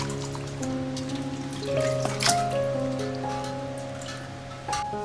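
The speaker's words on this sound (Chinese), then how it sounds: "就下面我要这个乌鸡给它洗干净，捞出点控制水" Water drips and trickles steadily from freshly washed black-bone chicken as it drains, a close, continuous patter over a low kitchen hum.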